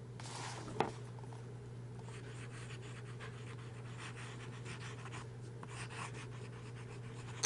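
Close scratchy writing with a Goulet fine steel nib fountain pen on paper, soft continuous strokes over a low steady hum, with no talking.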